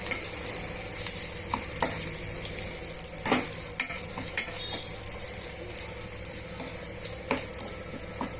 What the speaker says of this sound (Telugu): ఇదంతా కూడా బాగా మిక్స్ చేసుకొని వేగనివ్వాలండి పచ్చివాసన పోయేంత వరకు వేయించుకోవాలి